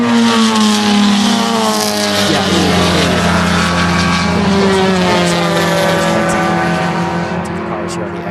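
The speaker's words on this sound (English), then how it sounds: "the cars here on the exit kind of dancing around, and really a lot of speed in this section" Sports cars race at speed through a fast sweeping section of an SCCA club circuit, engines droning loudly and steadily as they pass close by, with a brief voice over the engine noise.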